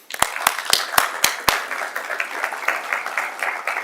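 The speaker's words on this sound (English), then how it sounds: "I want to give him one more round of applause" Audience applause for a city official being recognised at a Murray City meeting, opening with a few sharp, close, loud claps and then settling into steadier, lighter clapping from the room.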